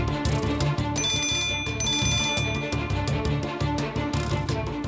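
Electronic ringtone melody from a phone ringing loudly and steadily through the whole stretch, repeating chime tones over a layered musical background with no talk.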